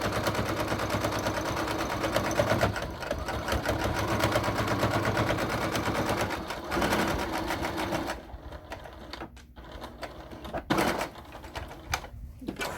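Sewing machine stitching folded fabric for a card-slot zipper wallet, a fast continuous mechanical whir and rattle running steadily, then stopping and restarting in shorter bursts near the end.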